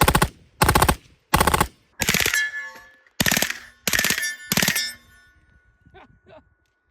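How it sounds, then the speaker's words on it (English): MP5K-style submachine gun on a Liber V2 lower with a super safety, firing sharp, very loud bursts in a close, clipped series of about seven shots, with echoing ringing between them. "This is the Liber V2 lower from L2 Prince with the super safety in it, and it does MP5 things."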